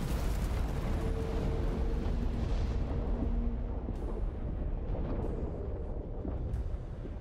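Heavy weapons fire roars continuously in a space marine video game, a dense, loud wall of booming blasts and rumbling explosions with no speech.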